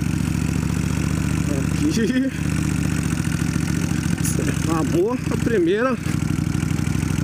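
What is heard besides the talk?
Kawasaki Vulcan 1500 motorcycle engine idling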